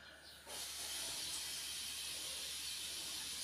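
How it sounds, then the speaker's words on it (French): Steady loud hiss of steam venting from a Cookeo multicooker in a home kitchen, starting abruptly after a brief quieter moment and continuing unbroken throughout. "c'est mon cookéo, vous entendez"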